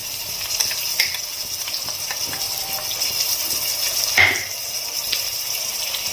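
Garlic paste sizzles steadily in hot oil for a fish head sambar, a close, even frying hiss with faint stirring scrapes and one brief louder clatter midway.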